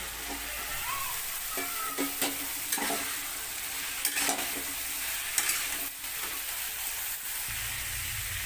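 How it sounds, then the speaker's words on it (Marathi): Chopped cauliflower stirred into a hot pan for dry Maharashtrian cauliflower bhaji, a steady sizzle with repeated scraping strokes of a spoon against the pan, close and continuous with no talking. "हे जे फ्लावर कापून घेतलेलं ना मी पण आता याच्यामध्ये घालून घेते।"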